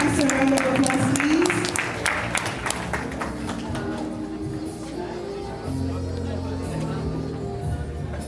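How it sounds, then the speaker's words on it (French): An audience applauds a pastor at the official inauguration of a Congolese community event in Washington, D.C., with a burst of clapping early on that fades into crowd murmur and a low background hum. "Give the pastor a round of applause,"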